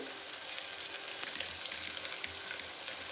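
Cashews, onions and green chillies fry in hot oil with a continuous crackling sizzle, close and moderately loud, with faint scattered spits and no voices over it.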